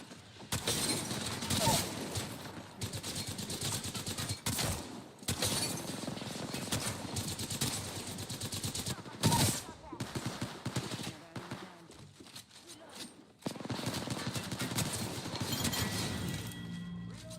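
Apex Legends gunfire in a dense, continuous barrage of rapid automatic bursts with crashing impacts, loud and close, with brief gaps between volleys and game character voice lines mixed in.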